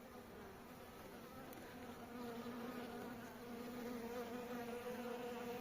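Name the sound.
honey bees buzzing at hive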